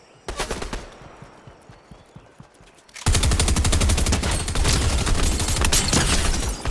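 Gunfire in Fortnite: a few scattered shots early, then from about three seconds a loud, sustained rapid burst of automatic fire rattling continuously to the end, with no talk over it.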